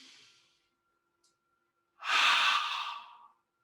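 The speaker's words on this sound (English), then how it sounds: "give me a nice deep inhale and exhale through your mouth" A deep exhale through the mouth during seated yoga breathing: a faint breath trails off at the start, then after silence comes a loud, close, airy whoosh of about a second and a half that fades out.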